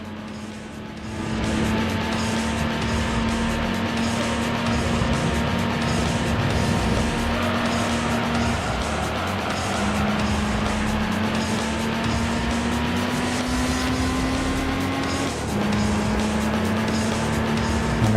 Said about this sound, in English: Now here's the corner I usually skid through a little bit.